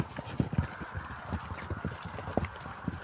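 Horse hooves clip-clopping in a steady, uneven rhythm, fairly close, with no talking over them.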